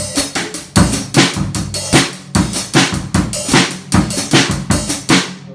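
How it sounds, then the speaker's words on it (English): A drum kit plays an offset linear groove, with crisp hi-hat and snare hits alternating in a steady, punchy rhythm, loud and close with no voices. "You can have a mixture where you're playing some layered drumming and some offset drumming."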